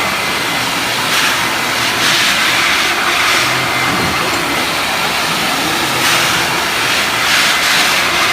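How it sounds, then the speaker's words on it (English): A wet vac runs during floor-finish and burnishing work, giving a loud, steady roar throughout with slight surges and no talking. "We can get the wet vac hooked up."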